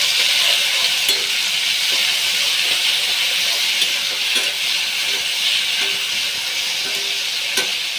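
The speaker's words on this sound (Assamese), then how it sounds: "তাৰপিছত এয়া মই বিলাহী দি লওঁ।" Tomatoes sizzle and hiss steadily in hot oil in a pan while an egg curry is cooked, a loud continuous frying sound with occasional faint clicks of stirring.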